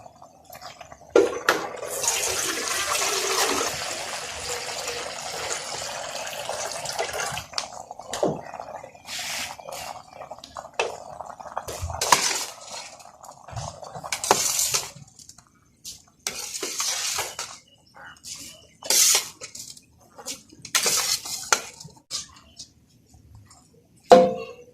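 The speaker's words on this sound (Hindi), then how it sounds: "अब हमने इसमें चावल ऐड करने हैं।" Rice poured and stirred into a pot of boiling water, with clattering, scraping and bubbling up close, a sustained stirring stretch followed by irregular clinks and splashy knocks.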